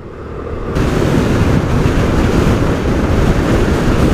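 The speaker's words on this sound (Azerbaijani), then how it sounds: "Küləyə bax. Gönüllü külək var, oynadır." Strong wind roars loudly across the microphone of a moving scooter in a steady, buffeting rush that swells in after a quieter opening moment.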